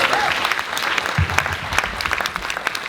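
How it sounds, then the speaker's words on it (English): Loud, dense audience applause at a university campus talk fills the whole short stretch, with many hands clapping steadily and no voice on top. "give a big round of applause to the teachers"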